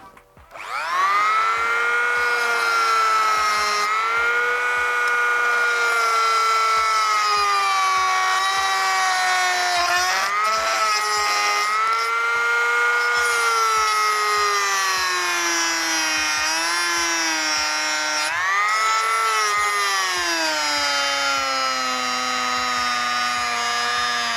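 A Zenit ZG-250M rotary engraver runs at speed setting six with a loud, steady high whine close by, its pitch dipping and sagging slightly as it works, with no talking throughout.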